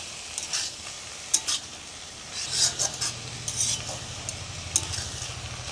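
Susni greens with shrimp sizzle in a hot pan while a utensil scrapes and stirs in short, irregular strokes, close by and without talk.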